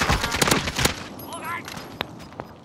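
Video game gunfire in a shooter match: a rapid burst of close, sharp shots followed by a few scattered single cracks, with voices talking over the action.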